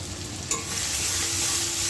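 Masala spice paste of ground coriander and cumin fries in a pan, a steady loud sizzle with a sharp spatula scrape early on.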